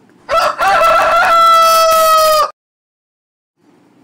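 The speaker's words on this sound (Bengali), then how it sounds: "মোরগ," A rooster gives one loud, close cock-a-doodle-doo that rises and holds for about two seconds, then cuts off into near silence.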